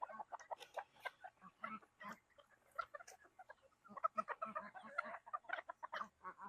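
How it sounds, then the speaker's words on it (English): Chickens cluck and chatter on a farm in a dense run of short, overlapping calls, fairly close and moderately loud, with a few brighter squawks scattered through the flock. "Now I'm going to throw a little out for the big chickens."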